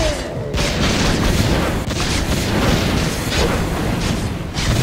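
Mobile artillery in Broken Alliances booms continuously, a dense, rumbling barrage of overlapping blasts that stays loud and heavy from start to finish.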